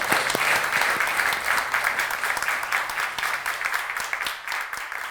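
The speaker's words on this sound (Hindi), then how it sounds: "उनके लिए ज़ोरदार तालियां दोस्तों।" A studio audience on an Indian television talk show bursts into loud, dense applause that holds steady for the whole stretch, then tapers slightly near the end.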